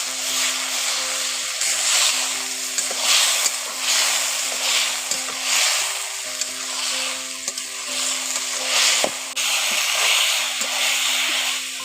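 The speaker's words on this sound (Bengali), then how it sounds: "জলটা দিয়ে ভালো করে আবার কষে নিচ্ছি" A tomato and spice masala with a splash of water being stir-fried in a pan for a potato and pointed gourd curry, with a continuous sizzle and repeated scraping strokes of a spatula, close and fairly loud, no speech.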